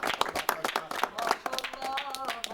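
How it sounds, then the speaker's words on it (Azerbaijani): Wedding guests clap for the groom, a scattered group of sharp handclaps at an uneven rhythm, with voices chattering in the background. "Alqışlayaq bəyimizi inşallah."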